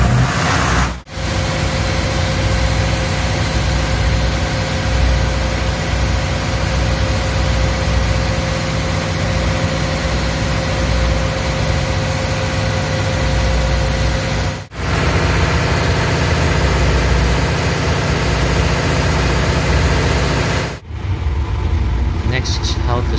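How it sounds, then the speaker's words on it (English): A ship's emergency generator engine runs steadily and loudly after being started, a continuous diesel drone with brief dips in level. "Number 7, push the engine start button."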